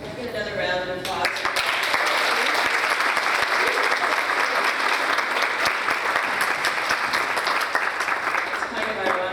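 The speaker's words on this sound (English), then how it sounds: "Get another round of applause" A symposium audience at a youth mental health event breaks into a loud, sustained round of applause after a brief voice at the start, the dense clapping holding steady for several seconds before thinning out.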